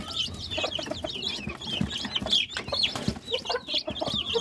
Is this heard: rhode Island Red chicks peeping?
yes